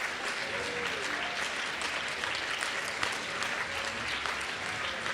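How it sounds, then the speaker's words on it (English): A large audience at the 2023 ICPC North America Championship closing ceremony applauds continuously. The dense, even wash of clapping sounds somewhat distant and fairly quiet, with no single claps standing out. "they deserve more applause than this"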